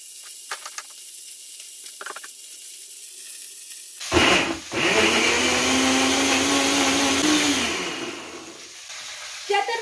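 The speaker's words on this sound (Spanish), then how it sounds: "Y ahora sí vamos a moler." A kitchen blender grinds halved tomatoes for Mexican rice, starting abruptly after a few quiet clicks and running as a loud, steady whirring roar for about four seconds before winding down.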